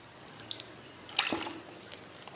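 Hand-watering seedlings in a nursery tray with a makeshift container in place of a sprayer: quiet drips and a brief trickle of water splashing onto the growing medium, soft and close, with no talking.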